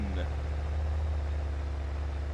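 A monster truck engine in the BeamNG.drive video game holds a steady, low, idling drone at an even level the whole time, with no clear revs.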